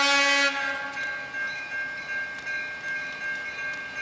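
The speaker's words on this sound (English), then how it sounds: "Man, listen to that Conrail horn!" Horn of an ex-Conrail SD60M locomotive leading a Norfolk Southern train, a loud chord blast at the start, then a sustained tone over the rumble of the passing train.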